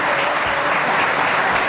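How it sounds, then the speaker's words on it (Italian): Audience applause breaks out at a Sardinian athletics awards celebration, a dense, steady burst of clapping from a crowd filling the whole short stretch. "ecco là, giusto applauso."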